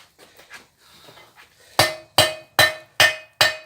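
A hammer forges a hot steel S hook on an anvil: a few light taps, then five loud ringing metallic strikes at an even rhythm, each clang decaying quickly.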